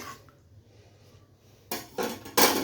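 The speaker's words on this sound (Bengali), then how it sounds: "এবার আমি ঢেকে দেব এক মিনিটের জন্য ঢেকে দেব" A metal lid goes onto a pot of fish curry with tomatoes and aubergine, giving three sharp clanks in quick succession after a quiet stretch. The clanks are close and fairly loud.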